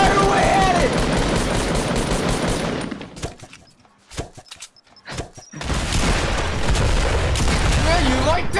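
Rapid bursts of automatic gunfire and booming shots from a Fortnite Battle Royale match at Dusty Divot, loud and dense, dropping into a brief lull of scattered pops before the heavy firing resumes. Faint voices sit beneath the shooting.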